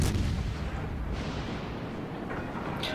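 Warship guns in World of Warships Legends boom in heavy, rumbling blasts that roll into one another, with a sharper crack near the end. There is no talking.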